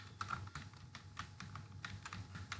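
Steady keyboard typing, a quick run of light clicking keystrokes close by with no voices.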